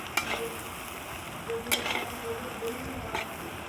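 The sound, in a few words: egg curry being stirred in a pan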